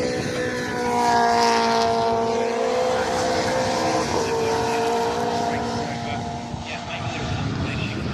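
A Mini racing car engine screams past at Brands Hatch with a high, rising then falling whine, loud and close, while a commentator talks over it.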